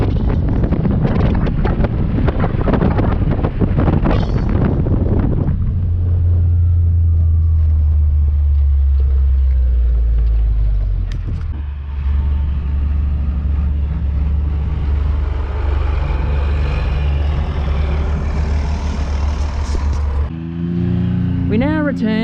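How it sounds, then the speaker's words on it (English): Tractor engine running nearby on a farm, a low steady rumble that settles in after a burst of wind buffeting and holds for a long stretch, with a voice speaking over it. "Now, of course, I'm interrupted by the tractor."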